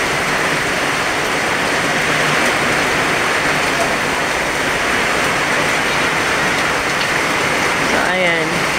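Heavy rain pouring down steadily during a rainy day outdoors, a loud, dense, unbroken hiss close by, with a brief voice near the end.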